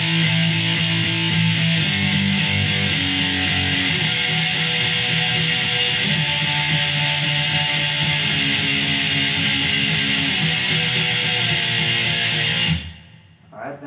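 Guitar plays a pre-chorus, a continuous, full stream of chord changes that stops abruptly shortly before the end.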